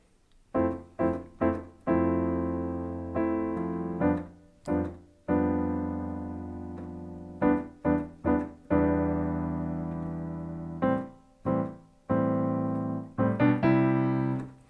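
Piano chords played in a steady pattern, each struck and left to ring and fade before the next, clear and close with no voices.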